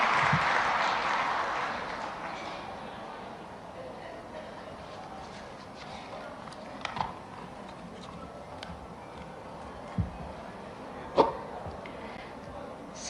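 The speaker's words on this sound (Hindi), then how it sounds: "आपकी जोरदार तालियों के साथ आमंत्रित करती हूँ उनके उद्बोधन के लिए" An audience at a National Women's Day government event applauds to welcome the Minister of Women and Child Development, a broad, moderately distant wash of clapping that fades out within about two seconds, leaving a quiet hall with a few scattered knocks.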